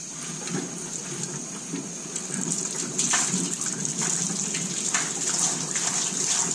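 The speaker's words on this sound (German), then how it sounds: "blase ich jetzt erst noch mal ein bisschen Wasser durch den Heaterkorn" Compressed air forces water through the heater core of a 2001 RAM truck with a 5.9 Magnum engine during a cooling system flush: a steady, loud, hissing gush of spraying water that holds for several seconds.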